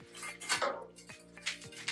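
Heavy cooking pots in a Portuguese kitchen clank and scrape as they are handled, several close metallic knocks and clinks spread unevenly over a low steady hum.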